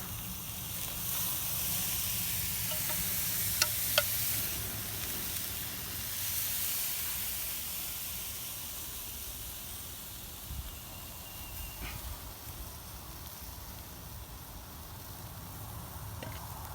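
Carne asada steak for fajitas sizzling as it cooks, a steady close hiss with a few sharp pops early that slowly softens and thins toward the end.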